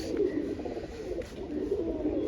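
Pigeon softly cooing in a repeated low murmur, steady and fairly close, with no one talking.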